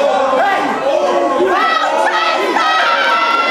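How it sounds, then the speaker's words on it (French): Crowd of wrestling fans at a Berlin event jeering loudly, a dense wall of shouts and boos with rising and falling voices, close and continuous throughout. "Sous les huées des fans de Berlin."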